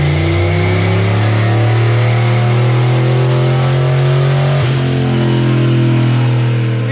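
A turbocharged GT40 engine, untuned, runs on a dyno with a loud, steady drone that holds strongly throughout, with a slight shift in pitch near the end.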